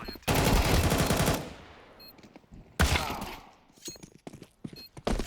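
Automatic weapon fire from the Counter-Strike 2 video game, with two loud rapid bursts of gunshots separated by a pause, followed by scattered single shots and clicks.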